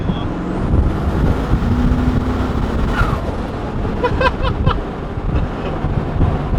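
A twin turbo V8 Land Cruiser cruising in top gear at 80, a dense continuous low engine and road rumble mixed with wind buffeting from inside the cabin, with a voice speaking over it.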